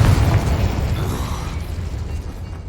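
A Confringo spell in Hogwarts Legacy erupts as a loud, close, rumbling explosion that fades out over a couple of seconds.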